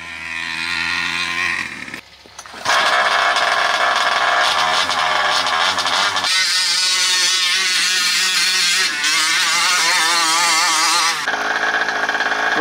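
A small 49cc gas RC monster truck engine being broken in screams loudly and steadily at high revs, its pitch rising and falling, with a short dip near the start.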